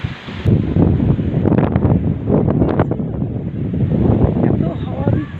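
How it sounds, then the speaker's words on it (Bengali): Strong, gusty wind blowing through trees beside house rooftops makes a loud, steady roar with rustling surges, and a faint voice sits underneath. "এত হাওয়া দিচ্ছে, ঝড় উঠে যাচ্ছে, কিন্তু ঝড় ওঠেনি, এত হাওয়া।"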